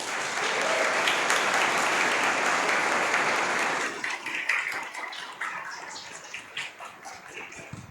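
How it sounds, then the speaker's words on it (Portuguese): A church congregation at a Sunday worship service applauds together, a dense, loud wash of clapping for about four seconds that then thins into scattered, fading claps. "Vocês podem aplaudir."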